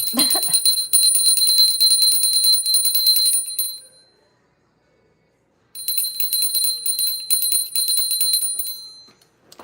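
A shrill electronic bell rings continuously for a few seconds, stops briefly, then rings again just as loudly.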